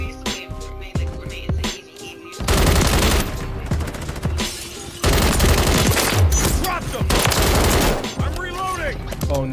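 Gunfire in the video game Call of Duty Modern Warfare 3: loud, sustained automatic bursts with short gaps, broken by a few single shots, while a voice talks over the action.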